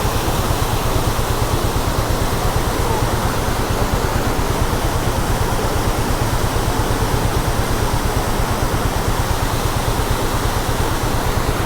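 A waterfall plunges from a height beside a bike route between Goa and Kolhapur in Maharashtra, a loud, unbroken roar of rushing water that stays constant throughout.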